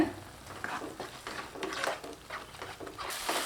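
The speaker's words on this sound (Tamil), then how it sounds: "இது கூட அரைச்ச விழுத சேர்த்துட்டு நல்லா பச்சை வாடை போய் எண்ணெய் பிரிஞ்சு வர அளவுக்கு நல்லா வதக்கி விட்டுக்கலாங்க" Onion and ground paste sautéing in oil for a paneer capsicum gravy make a soft, close sizzle with intermittent stirring scrapes and light patter, no talking.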